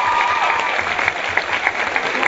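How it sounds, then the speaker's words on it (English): Audience applause for an actress at a university interview evening, a sustained, fairly loud burst of many people clapping in a hall, with scattered sharper claps standing out through the crowd noise. "you should give Stana a round of applause"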